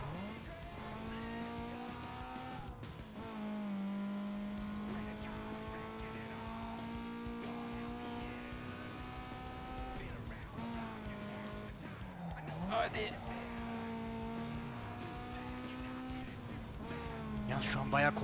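A Honda Civic races in Need for Speed Underground 2, its engine holding a steady high whine that drops briefly at a gear change before climbing again, with someone talking over it.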